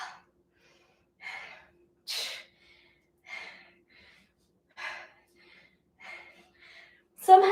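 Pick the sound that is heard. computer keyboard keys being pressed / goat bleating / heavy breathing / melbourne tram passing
heavy breathing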